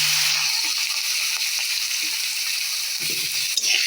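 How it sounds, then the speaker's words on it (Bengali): Eggplant pieces fry in hot oil previously used for frying fish, giving a steady, loud sizzle that crackles evenly throughout with no voices over it. "বেগুনগুলোকে অল্প একটু ভেজে নেব।"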